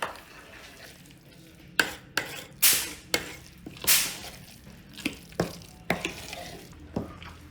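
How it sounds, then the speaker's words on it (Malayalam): Grated coconut mixed by hand into a batter for kumbilappam, heard as irregular close scraping and slapping strokes over a low background hiss, with no voices. "തേങ്ങയിട്ട് നമുക്ക് മിക്സ് ചെയ്യാം"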